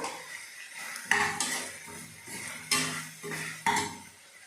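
Ginger garlic paste goes into mutton frying in a pan, heard as a few close metallic clanks and scrapes of a spoon against the pan over a low sizzle, with no talking.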